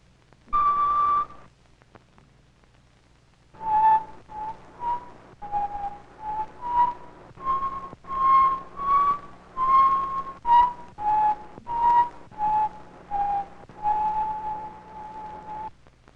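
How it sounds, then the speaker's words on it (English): Air columns in a row of test tubes holding different amounts of water give breathy, whistle-like tones: one short note, a pause, then a quick tune of about a dozen clear notes at slightly varying pitches. "Now see what you can do with a row of test tubes filled with different amounts of water."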